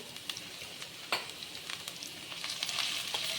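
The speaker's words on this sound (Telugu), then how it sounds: "కొంచెం పచ్చి వాసన పోయేంతవరకు కొంచెం ఫ్రై చేసుకొని" Ginger-garlic paste with a pinch of turmeric sizzles in hot oil with curry leaves for tomato rice, a steady low crackle with a few sharper spits and stirring scrapes, close and alone.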